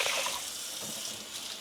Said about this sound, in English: I'm just doing a little soap and water, cleaning it